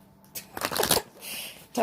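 A quick riffle of tarot cards being shuffled, a short fluttering burst followed by a softer second ruffle and a brief tap, close and quiet.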